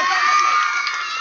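Audience at a daughter-in-law competition event cheering and clapping, a brief dense burst of crowd noise with shouts mixed in.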